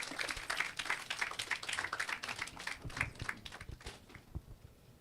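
An audience at a public Wi-Fi launch ceremony in St. Ann's Bay applauds: a faint, distant patter of many hands clapping that thins out toward the end.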